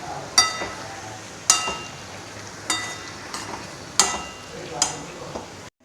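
Gentle sizzling of eggplant sautéing on a low flame in a pan, with a spoon stirring, giving five sharp clinks against the metal at roughly one-second intervals.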